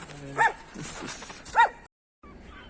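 Stray dogs on a snowy beach give two short, sharp barks or yips about a second apart, fairly near and loud over a faint outdoor background, followed by a brief gap of silence.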